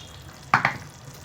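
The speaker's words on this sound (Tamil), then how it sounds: "நல்லா கொதிச்சிருச்சு, எண்ணெயும் மேலே அப்படியே பிரிஞ்சு வந்துருச்சு பாருங்க" Garlic and black pepper curry bubbling in oil in a pan, with two close stirring scrapes standing out briefly against a steady low sizzle.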